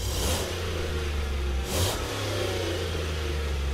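A 2015 Chevrolet Suburban LTZ with a 5.3-liter V8 accelerates, its steady low engine drone swelling into a rising tone partway through, loud and close with no talking.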